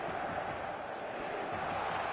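Dense, steady roar of a large football crowd packed into a stadium on match day, a continuous broad wash of voices with no breaks, loud and enveloping throughout.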